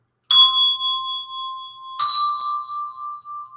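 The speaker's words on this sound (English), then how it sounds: "So if you're looking at the lovely bells here," Two bells are struck one at a time, about two seconds apart, in a music theory lesson on steps and skips. Each rings out clear and bright, then slowly fades in an otherwise quiet room.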